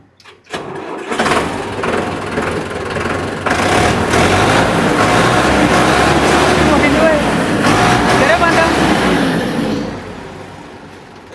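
A tractor engine cranks over and catches, then runs steadily and loudly close by for several seconds, with a high-low gear setting mentioned for starting, before the sound fades toward the end; voices are heard around it.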